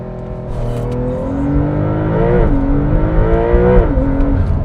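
A Porsche 911 launches under launch control in Sport Plus, its engine climbing through rising revs with two brief dips at gear shifts, loud and close throughout with no talk.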